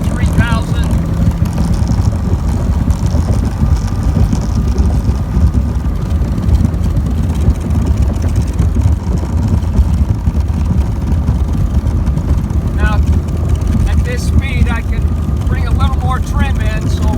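A Glastron CVX16 boat with an Evinrude ETEC 150 HO outboard revs on a Michigan lake, a loud steady engine drone with water and wind noise, with someone talking over it at times.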